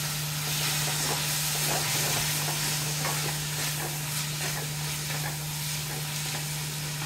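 A spice mixture sizzles steadily in an uncovered pan over a low flame, a continuous close hiss with faint crackles and occasional stirring scrapes.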